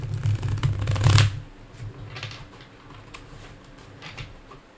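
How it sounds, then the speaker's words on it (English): Tarot cards riffle-shuffled up close in one loud burst lasting about a second, then fading to quieter scattered card flicks and soft handling noises with no speech. "we're going to go ahead and do the first shuffle"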